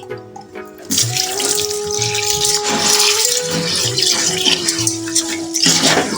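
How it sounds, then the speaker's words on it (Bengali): Rice being rinsed in water at a kitchen tap, with a steady loud rush of running water and splashing that carries on throughout after a brief quieter start. "হ্যাঁ, চালটা ধুয়ে নিচ্ছি"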